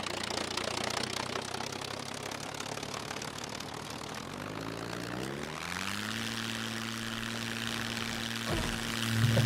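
Propeller plane engine in the video game SCUM, a steady droning hum that shifts pitch partway through and swells slightly louder near the end, heard alone without talk.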